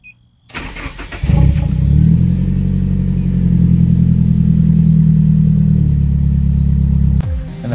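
A car's engine cranks and fires up after its exhaust refit, then runs loud and steady with revving, close by, for several seconds before cutting off abruptly near the end.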